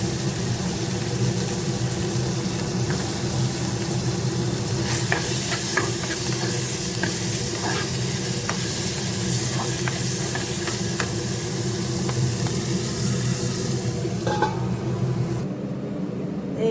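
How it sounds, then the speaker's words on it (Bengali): Chicken frying in a pan for momo fillings, a loud, steady sizzle and hiss close by with occasional scraping stirs, no voices present. "চিকেন ছিল চিকেনটা ভেজে নেবো"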